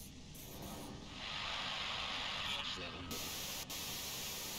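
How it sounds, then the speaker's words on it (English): Hissing white noise in Disco Elysium swells in like static filling the head, a steady quiet wash that builds, holds, then shifts abruptly near the end. "The voice trails off into white noise in your head"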